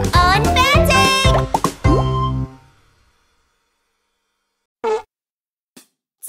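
Cartoon fart sound effects in a German-language children's potty song: a sung, voiced passage ends, then short isolated plopping and squelchy toots follow one after another amid silence.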